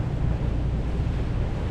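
Fast water of the narrowed Mississippi River at Whitecap Rapids rushes in a steady, loud roar, mixed with wind buffeting the microphone on a moving boat.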